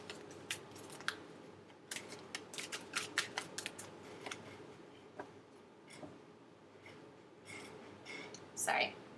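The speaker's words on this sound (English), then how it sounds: "2 more shuffles." Tarot cards are shuffled by hand at close range, giving quiet, irregular crisp riffles and snaps against a soft background hiss, with a louder rustle near the end.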